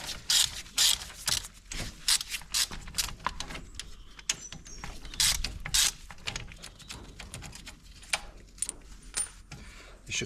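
Ratchet clicking as a bolt is loosened during brake pad work, a rapid series of sharp metallic clicks and clacks in uneven bursts, close up with no talk.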